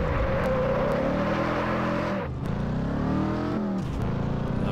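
A heavy Ford Mustang drives in the racing game Test Drive Unlimited 2, its engine droning loudly and steadily, dipping and rising again as gears shift, with no voices.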